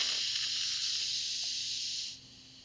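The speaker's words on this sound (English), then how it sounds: "now we're going to release the rest of our pressure if there's any remaining" Pressure cooker venting its remaining steam in a loud, steady close hiss that holds for about two seconds, then abruptly drops away to near silence.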